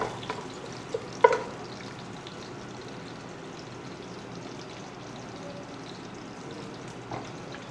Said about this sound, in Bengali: আর এখানে দেখতেই পাচ্ছ আমার এই ফ্রাই এখনো হচ্ছে।